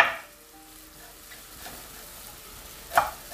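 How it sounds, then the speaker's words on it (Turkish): Meat searing and frying in a pan over high heat, a steady close hiss and sizzle with brief louder crackles and stirring scrapes near the end. "Yüksek ateşte mühürlenmesine, kavrulmasına izin veriyorum."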